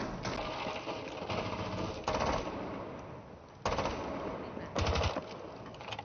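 Rapid gunfire in the video game Rainbow Six Siege, with loud automatic bursts and single shots in clusters across a few seconds, some sharper and nearer than others.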